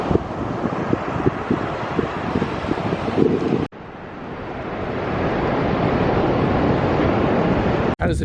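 Wind buffets the microphone over steady rough surf on a beach, a continuous loud roar of breaking waves throughout, with a brief dropout near the middle.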